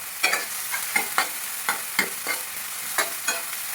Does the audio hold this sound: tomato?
yes